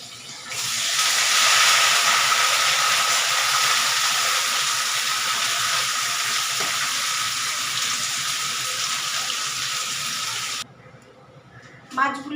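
Bottle gourd leaves hit hot oil that already holds tempering spices in a kadai. A loud, steady sizzling hiss rises at once and holds for about ten seconds, then cuts off abruptly.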